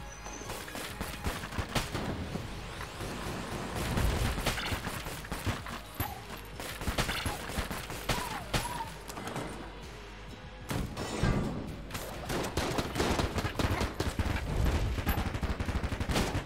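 Rapid, continuous gunfire with sharp impact hits crackles densely throughout in the video game Enter the Gungeon, punctuated by heavier thuds and crashes, loud and close.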